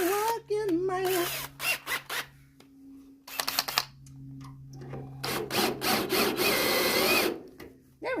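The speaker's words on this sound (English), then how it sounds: "for just a second, this drill sounded like that song" A power drill whirs in short bursts and longer runs, starting and stopping between pauses, while someone talks and hums in between the runs.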